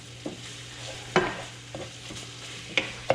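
Pork meat sizzles in a frying pan with a soft steady hiss, broken by a few sharp scrapes and taps of a utensil stirring and chopping against the pan.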